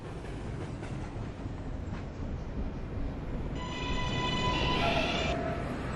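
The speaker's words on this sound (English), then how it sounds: "This is a Calgary Street bound V express train." Steady rumbling video-game subway train noise from a V express train, with rolling wheel clatter, rising slightly as high tonal whines and a squeal appear near the end.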